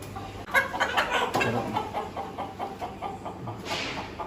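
A large rooster clucks close by in a rapid, repeated series of short throaty calls, moderately loud against a quiet background, with no speech.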